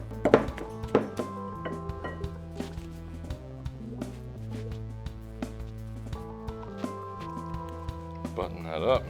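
Blood oranges and cranberries being muddled into a paste for a whiskey cocktail, with repeated soft thunks and squishy presses at an uneven rhythm, close by and under a voice in the background.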